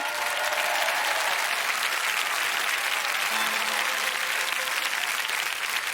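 Full, steady applause from a large concert hall audience after a singer's performance, even and continuous throughout with no clear voices.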